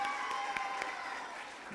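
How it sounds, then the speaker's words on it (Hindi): A studio audience on a Pakistani Sindhi entertainment show claps steadily for a young singer, a dense, even patter of many hands held at moderate level throughout. "अपने साथी के लिए भाई तालियां बजाएं भरपूर।"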